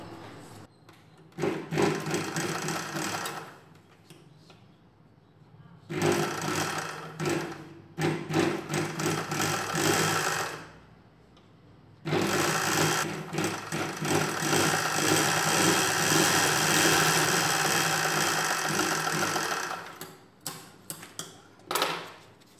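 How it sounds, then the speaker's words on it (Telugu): Sewing machine stitching a sleeve piece onto cloth, running in several long bursts with short pauses between them, close and fairly loud, with a light mechanical rattle. No one talks. "ఈ పీస్ని ఈ క్లాత్కి ఇలా లోపలికి వచ్చేలాగా పెట్టుకొని కుట్టు వేసుకోవాలి"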